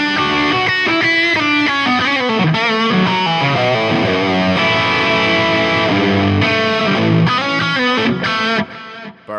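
Electric guitar played through a stereo tape delay on an Axe-FX III modeler, a loud distorted lead with rapid picked notes and sustained bends, echoing repeats trailing each phrase, playing alone without talk.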